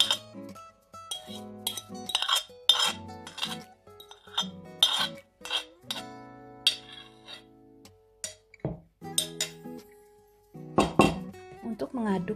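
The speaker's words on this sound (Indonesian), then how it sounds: "Untuk mengaduk terigu ini, mengaduknya cepat aja ya moms." A utensil quickly stirs banana batter into flour in a bowl for muffins. Repeated sharp clinks and scrapes against the bowl come in irregular bursts with short pauses, close and fairly loud.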